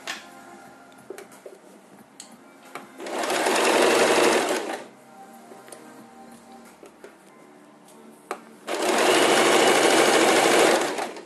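A sewing machine runs in two sustained bursts, stitching along a trouser seam that had been unpicked, each run lasting about two seconds with quieter pauses between and no talk over it.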